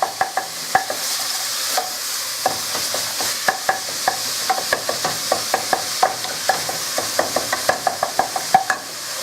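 Ground meat for spaghetti bolognese sizzles in a pan while a utensil stirs and breaks up the clumps, giving a steady fry under a run of sharp, irregular scraping and tapping clicks close by.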